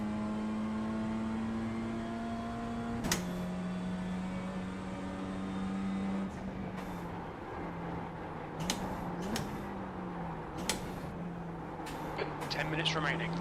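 Mazda MX-5 race car engine in a racing video game, a steady droning note shifting through gear changes with brief revving surges, heard continuously under a voice talking.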